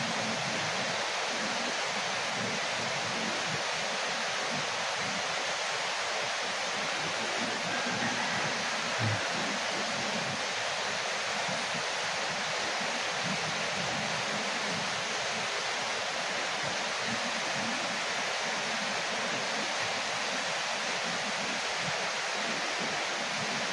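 A noisy creek in a rural Filipino setting rushes steadily, a dense broadband wash of flowing water that stays loud and unchanging throughout, with no voices over it.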